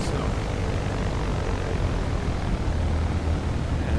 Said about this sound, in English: and I am shutting the engine down,